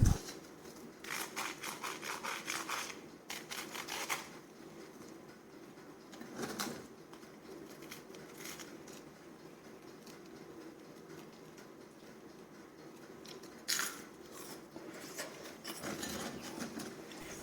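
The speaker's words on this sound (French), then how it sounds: "ce sont des frites XXL hyper crispy. Je vous laisse écouter la crisprisation" Intermittent crisp crunching bursts from biting extra-large crispy fried potato fries, close and fairly quiet, come in uneven clusters over a low, steady background hum.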